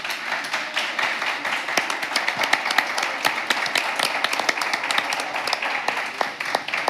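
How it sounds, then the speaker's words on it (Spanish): An audience gives sustained applause, many hands clapping in a steady crackling patter at moderate distance, with faint voices beneath. "Eso se merece un gran aplauso para los dos."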